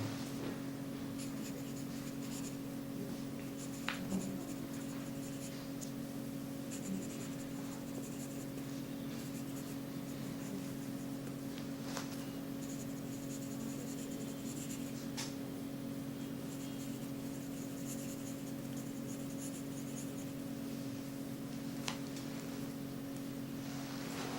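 Pencil scratching on paper while a candidate plans an answer during an IELTS speaking test, faint and continuous beneath a steady electrical hum, with no talking.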